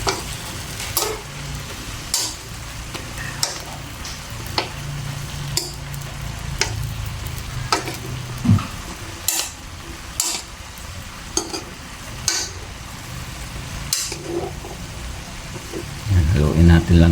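Eel adobo in coconut milk with string beans, chili, vinegar and dried fish stirred in a pan: repeated clanking spatula strokes every second or so over a steady sizzle, with speech at moments.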